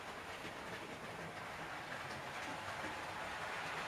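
Model railway trains running on a loft layout, a steady, faint rolling rumble with soft clicking from wheels on track, continuous throughout with no voices.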